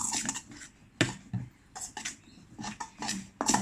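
Fluffy slime being mixed in a bowl: close, irregular scraping and clinking strokes of a utensil against the bowl, with soft squelchy pauses between the louder knocks.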